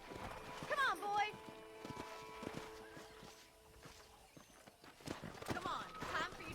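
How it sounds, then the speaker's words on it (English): Horse hooves clopping at a steady walking pace in the video game Red Dead Redemption, with voices talking over them and a scrape of rustling in the background. "I picked out a fine horse for you."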